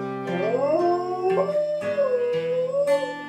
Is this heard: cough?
no